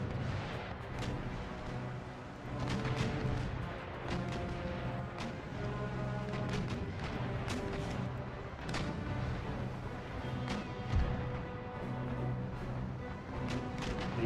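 Naval cannon broadsides fired between sailing ships in Empire Total War; a dense, continuous barrage of overlapping booms and cracks rolling on throughout.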